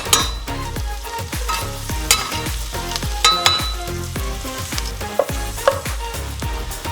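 Minced garlic toasting in melted butter in a pan, stirred often, giving a steady close sizzle broken by repeated sharp scrapes and taps of a utensil against the pan.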